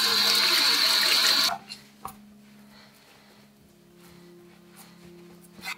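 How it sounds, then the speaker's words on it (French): Salt-cured beef round rinsed under a running tap, a loud steady rush of water for about a second and a half that cuts off sharply, leaving quiet room tone with a few faint clinks. "je vais pouvoir le sortir et le rincer"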